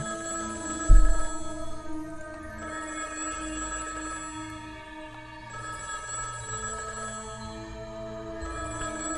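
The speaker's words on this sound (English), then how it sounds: "The phone rings for a long time, which convinces me that this is a call from them" A telephone ringing continuously for a long stretch in the Higurashi visual novel, a steady ringing tone over background music after a brief low thump, no speech.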